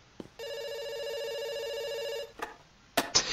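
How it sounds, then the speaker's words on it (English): A telephone rings in one long steady electronic trill of nearly two seconds, loud and close, framed by a few sharp clicks and knocks. No one speaks over it. "It's ringing."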